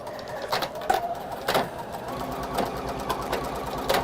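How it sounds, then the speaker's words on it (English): A sewing machine stitches fabric in short bursts, its mechanical clatter rising and pausing near the listener as sewing starts and stops, with some background noise. "I'm just going to stitch."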